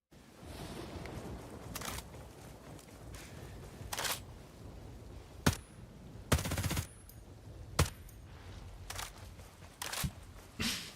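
Rifle gunfire in Ghost Recon Breakpoint, a fast-firing automatic weapon: bursts of sharp shots come at irregular intervals over a low background of game ambience, moderately loud and close, with no talking.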